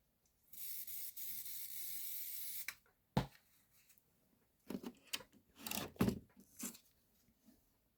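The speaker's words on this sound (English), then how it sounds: "I'm going to give this another little shot of spray because I feel like this stick is completely gone" Adhesive spray is misted onto quilting fabric for a Christmas quilt block: one steady, close hiss lasting about two seconds, followed by soft rustling and handling noises as the fabric is smoothed down, with no talking.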